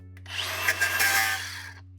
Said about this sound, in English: All right, grinder time.